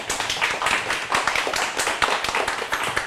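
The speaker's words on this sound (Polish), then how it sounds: "Dlatego poprosiłbym o brawa dla niej." Applause from an audience at a quantum computing group meetup, a short burst of dense, steady clapping lasting a few seconds.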